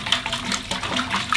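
Water rushing into a container to top up a mix for boiling deer skulls for European mounts, a steady close splashing flow with no one talking.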